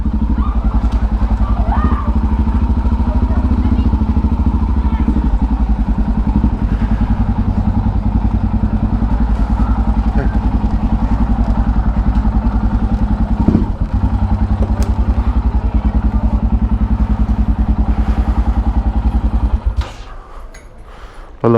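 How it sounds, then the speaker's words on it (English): A motorcycle engine idles with a steady low rumble and light mechanical clatter, close by and continuous for about twenty seconds before dropping away near the end. "Oh, there's the bike."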